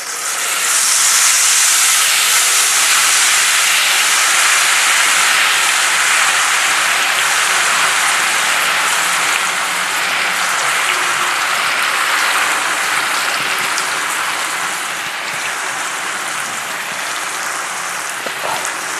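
Pichuka gullu, a rice sweet also called garajeelu, frying in hot oil, giving a loud, steady sizzling hiss that runs unbroken throughout and eases slightly toward the end.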